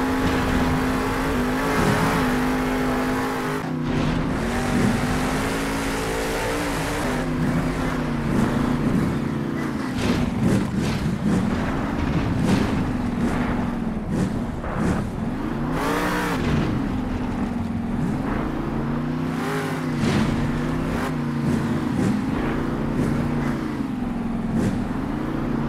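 Monster Mutt, a monster truck in Monster Jam Steel Titans 2, drives across open terrain with a steady, loud engine drone that rises and falls in pitch with gear changes and throttle, and no voices over it.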